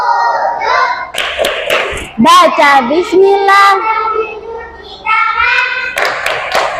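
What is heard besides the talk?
group clapping the rhythmic wudu clap (tepuk wudhu)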